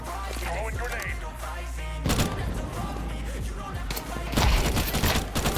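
Counter-Strike gunfire crackles in rapid bursts, a sustained volley with louder bursts near the middle and end, under a low steady game hum.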